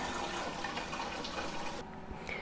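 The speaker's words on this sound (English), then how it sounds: "We're going to go ahead and start our pot of water boiling. And just put probably about 1/4 of water there in your pot." Tap water running into a cooking pot in a home kitchen, a steady gushing pour that fills the scene up close, then thins out near the end.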